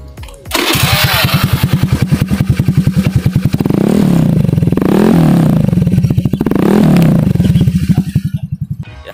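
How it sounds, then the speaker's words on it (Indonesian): Modified carbureted Honda Scoopy 110 scooter with an aftermarket exhaust idling in a steady loud putter, then revved three times in rising and falling bursts before settling back to idle, close by with no talking. "knalpot bisa kita cek sound nggak Mas?"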